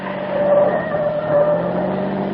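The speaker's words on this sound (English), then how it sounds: "I drove Alan Carlin's car like a reckless idiot, taking every curve as if it was a race course" A car driven hard around winding curves in a radio drama effect, a steady engine drone with a sustained whining pitch and slight swells, continuous and close with no talk.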